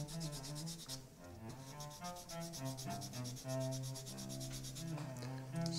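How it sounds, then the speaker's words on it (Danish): Rapid back-and-forth rasping as a new violin bridge is shaped with a small file and then sandpaper, quick regular strokes heard up close and fairly quiet, with no talking. "Først med en lille fil, og så med et lille stykke sandpapir til sidst."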